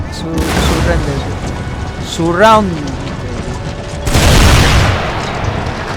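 Artillery in the strategy game Empire: Total War fires in broad booming bursts, one near the start and a heavier blast near the end, while a voice sweeps overhead and players talk throughout.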